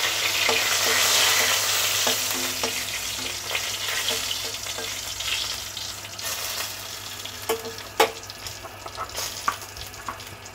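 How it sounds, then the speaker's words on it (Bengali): Bay leaf and two dried red chillies sizzle steadily in hot oil in a wok for a Bengali bottle gourd and prawn dish, with a loud crackling hiss that slowly eases and a few sharp spatters and scrapes near the end. "এর মধ্যে আমি একটা তেজপাতা দিয়ে দিলাম আর দুটো শুকনো লঙ্কা।"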